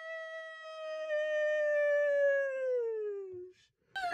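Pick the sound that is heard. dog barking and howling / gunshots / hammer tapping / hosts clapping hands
dog barking and howling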